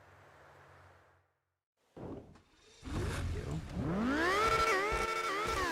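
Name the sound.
car engine revving during a test drive in a video game (RedlineRP)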